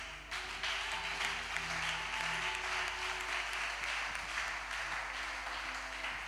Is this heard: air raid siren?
no